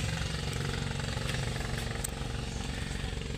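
A tourist boat engine drones steadily on the way to Kalanggaman Island, a continuous loud low motor rumble with constant vibration and no pauses, close and without talk.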